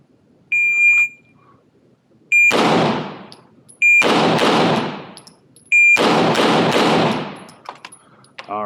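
Handgun fired at targets on a shooting range in a distance progression drill, with shot-timer beeps: a sharp beep comes before each of three loud, close bursts of rapid shots, and quiet gaps fall between the strings.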